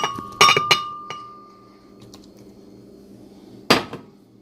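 Small hard grains clink sharply against a glass blender jar in a few quick bursts, then a quiet pause before one last rattling pour as rice berries go into a smoothie.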